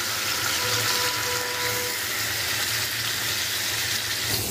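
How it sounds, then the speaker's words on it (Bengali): Meat pieces fry in oil in a frying pan with a dense, continuous sizzle and crackle that stays loud and close throughout, no voices over it. "তো তেল দিয়ে দিব ফ্রাই প্যানে। রোস্টের জন্য এই যে মাংসগুলো দিয়ে দিলাম।"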